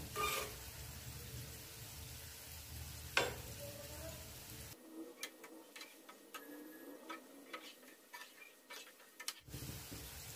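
Gulab jamun fry in hot oil and are stirred, making a soft, continuous sizzle with light scraping and ticking from the stirring, which dips quieter in the middle.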